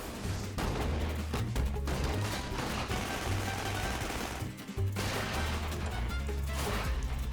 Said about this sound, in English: That was an iconic explosion.